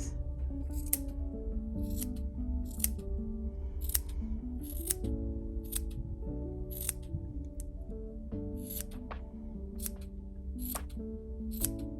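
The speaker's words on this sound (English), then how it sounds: "I'm going to snip them so they're all roughly the same" Scissors snip through the strands of a yarn pom-pom in a steady series of sharp cuts, about a dozen over several seconds, each one crisp and close, with soft background music underneath and no talking.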